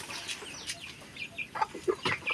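Hens and small chicks in a Filipino farmyard, with soft clucks and thin high peeps scattered irregularly over a quiet background; the calls are faint and come in short bursts, with no talking.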